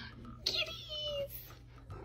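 Cats meowing at close range: a short mew near the start and a longer drawn-out meow after it, mixed with a soft voice calling and faint household background.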